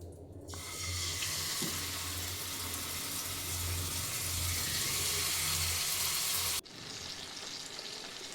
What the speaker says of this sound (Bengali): তার জন্য প্রথমে কড়াইতে আমি ইলিশ মাছগুলোকে ভেজে নেব।